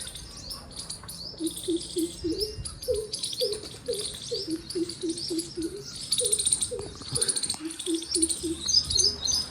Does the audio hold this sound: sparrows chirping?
yes